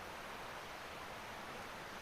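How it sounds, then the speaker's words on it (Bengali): Small waterfalls and a stream on the path to Devkund waterfall make a steady, even rushing hiss that is faint and distant, with no voices over it. "ঝর্ণার আওয়াজটা এই পাশেই"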